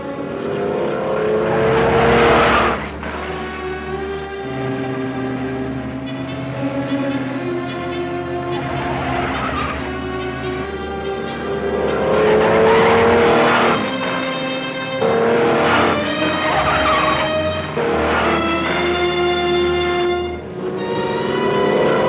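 A car from a 1956 thriller driven hard at speed, its engine loud and steady with rising and falling revs through gear changes, a continuous roar filling the whole stretch without any talk.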